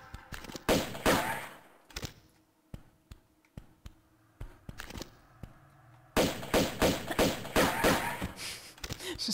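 Repeated gunshots fire in the Tomb Raider II Remastered game: sharp, fast bursts at the start, then scattered single shots, then a dense rapid volley near the end, loud and close.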